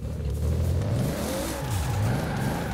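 A car engine in a racing video game revs steadily and rises and falls as the car drifts, sounding close and constant without any talking.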